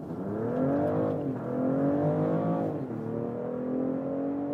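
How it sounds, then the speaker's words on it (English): BMW plug-in hybrid SUV in sport mode accelerating hard with combined combustion engine and electric drive boost, a loud continuous engine note rising in pitch through two gear shifts, heard from inside the cabin with no talking. "Let's put to the sport mode and also sports or S shifting mode, getting the boost from both drivetrains, combustion engine and electric drive."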